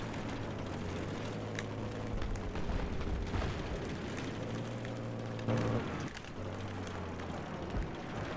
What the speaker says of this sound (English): Oh, did the tank actually explode?